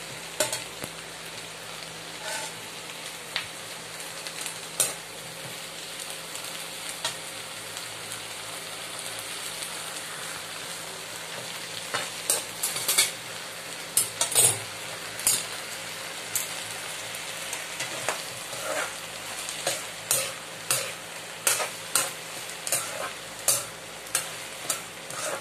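Tomatoes sauté in a pan over a high flame, a steady sizzle running throughout with scraping stir strokes that grow busier and more rhythmic toward the end.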